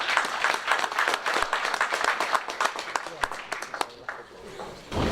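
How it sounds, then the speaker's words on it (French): An audience at a wine brotherhood chapter ceremony in Saint-Romain claps in loud sustained applause that fades toward the end, with voices heard under it. "On peut applaudir ces confréries qui ont vérité aussi."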